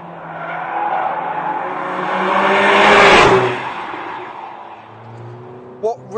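A Mercedes A45 AMG with four-wheel drive races hard around a track, its engine roaring and swelling to a loud peak around the middle before easing off, with a brief tire squeal at the end.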